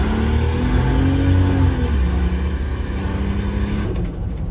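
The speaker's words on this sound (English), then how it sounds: "That pulls very good for a 3 ton car." Turbocharged Toyota 1FZ-FE engine in a roughly 3-ton car accelerating, a steady loud drone with the engine note rising then dropping at a gear change, heard from inside with no talk.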